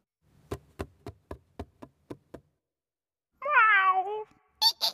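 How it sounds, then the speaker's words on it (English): A cat lets out a single loud, bending meow after a run of about eight sharp knocks, then a short high squeak follows near the end, with no one talking. "It's a cat."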